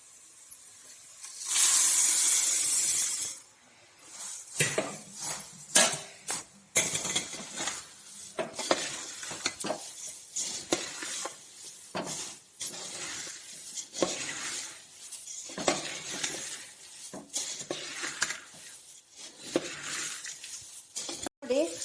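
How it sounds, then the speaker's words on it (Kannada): Puffed rice poured into a pan for pudina mandakki chudva, a loud rushing burst followed by repeated scraping, stirring and clinking of a spoon against the metal pan, close and continuous. "ಮಂಡಕ್ಕಿ ಹಾಕ್ತಾ ಇದ್ದೀನಿ"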